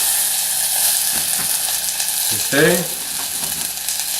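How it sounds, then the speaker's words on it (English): Constant crackling sizzle of onions frying in a hot pot, loud and close, with a short spoken word and some clatter midway. "Drop those in, nice with a sizzle."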